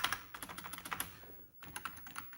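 Rapid typing on the membrane keyboard of a Panasonic FS-A1WSX computer, a dense run of soft close-up key clicks with a brief pause before it resumes, no talk.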